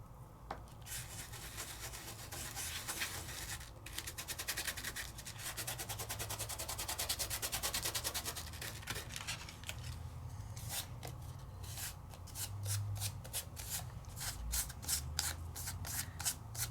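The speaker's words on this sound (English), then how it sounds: "Burnish it in really good." Combo glitter is burnished onto a craft project with rapid, close, dry rubbing strokes. The rasping comes in quick repeated bursts that quicken toward the end, and no voices are heard.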